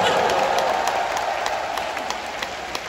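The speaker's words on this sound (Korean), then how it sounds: "다시 한번 우리 장윤정 씨의 훌륭한 답변에 뜨거운 박수를 부탁드리겠습니다." Sustained applause from a large concert audience, a dense steady clapping that slowly fades, with no voices over it.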